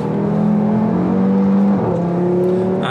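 A 2015 Audi RS3 Sportback engine drones loudly and steadily under acceleration on a track, with turbocharger whine and faint wastegate chirps riding over the sustained tone, no voices.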